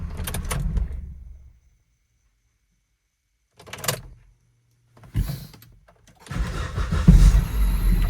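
A hot Volvo car with a long-cranking fault has its engine cranked and started, with brief mechanical bursts separated by silence before the engine catches and runs loudly near the end.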